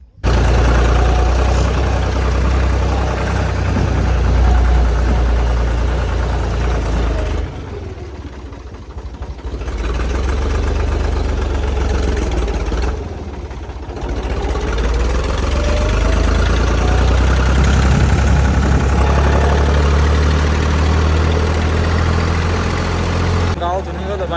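A modified tractor engine idles and runs steadily with a deep, continuous low rumble, loud and close throughout, dipping briefly twice before resuming; voices talk nearby over the engine.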